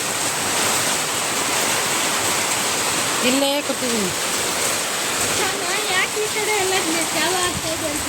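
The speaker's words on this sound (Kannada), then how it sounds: "ಮಳೆ ನೋಡಿರಿ ಎಷ್ಟು ಜೋರಾಗಿ ಬರ್ತೈತಿ" Steady heavy rain roars and hisses throughout, with a person speaking briefly in the middle over the downpour.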